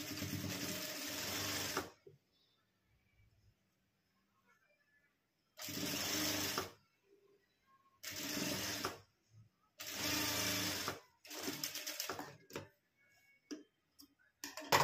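A sewing machine runs in several bursts while stitching along the edge of a lined blouse, each run loud and steady for a second or two, separated by quiet pauses with faint handling.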